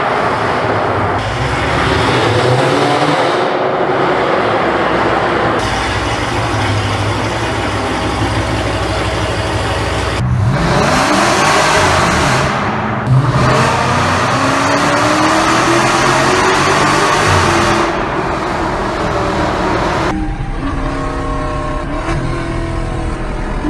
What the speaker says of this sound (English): this car has Cook's long tube headers, catless mid pipes, and a mid muffler delete